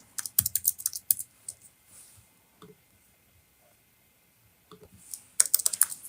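Quick bursts of typing on a computer keyboard, with dense clicking keystrokes at the start, a quiet pause with a few scattered taps, then another rapid burst at the end, close and clear with no talking.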